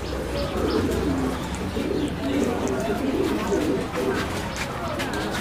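Fancy pigeons at a large pigeon farm coo in a soft, steady low murmur, with people talking nearby.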